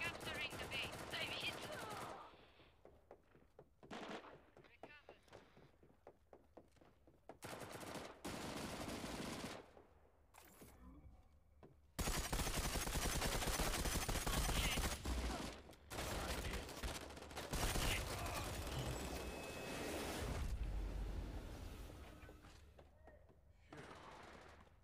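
Gunfire in the video game Disorder, with repeated bursts of rapid automatic shots starting and stopping, then a long sustained stretch of firing, loud against a quiet game background.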